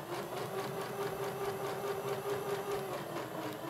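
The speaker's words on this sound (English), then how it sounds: "I'm going to stitch right up to that line, put my needle down on the line, lift my presser foot and turn" A sewing machine stitches fabric along a marked line while making a cooling neck wrap, giving a steady, close, continuous mechanical hum and whir with no pauses.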